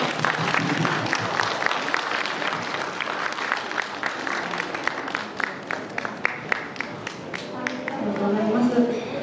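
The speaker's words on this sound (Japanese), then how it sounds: "どうぞ皆様拍手でお迎えください" Audience applause welcoming a soprano and piano sister duo at a community concert event in Japan: dense steady clapping from a hall crowd, with a voice speaking faintly beneath and the clapping thinning near the end.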